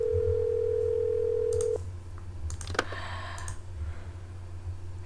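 A steady telephone tone in a video game plays for a couple of seconds and then cuts off, followed by a few faint clicks and short electronic blips over a low hum.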